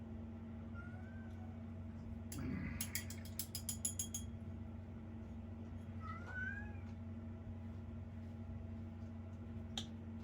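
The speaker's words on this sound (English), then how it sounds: "Probably hear my cat, one of my cats in the background." A domestic cat meows faintly in the background, two or three short rising cries spread over several seconds, over a steady low hum, with a quick cluster of mechanical clicks in between.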